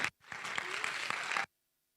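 Audience applause after a talk: a short, dense burst of many hands clapping that rises quickly, holds steady for about a second and a half, then cuts off into silence.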